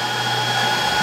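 Loud, steady whirring of the cooling fans on a fully enclosed Two Trees TS3 laser engraver, with a constant airy hum and a few tonal lines, close by and uninterrupted.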